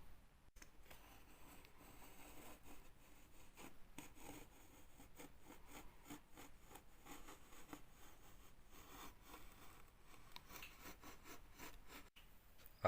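A blade slides at an angle behind plaster, slicing the protective film from a plastic window frame, giving a faint, continuous rasping scrape with small irregular ticks, close and quiet with no voices.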